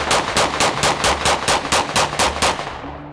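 A 5.7 pistol fired at an outdoor range, about ten sharp, loud shots in a steady, rapid rhythm, each with a short ringing tail, heard alone.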